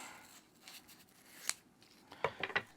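Scissors snip a piece off a strip of craft material for a journal spine tassel, one sharp cut followed by a quick cluster of three snips, close and crisp over a quiet room.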